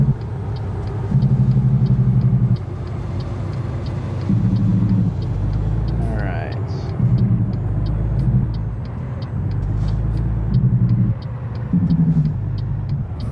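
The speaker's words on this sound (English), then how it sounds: "Lots of braking." A truck in the American Truck Simulator video game, driving and braking: a loud engine drone that rises and falls, with steady clicking throughout and a brief hiss partway through.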